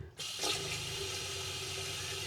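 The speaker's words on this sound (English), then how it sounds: "I'm also filling the water up as we speak." Water rushes steadily into a tank fed by a water pump, a continuous loud gushing fill that starts abruptly and holds at an even level with a faint hum underneath, no voices.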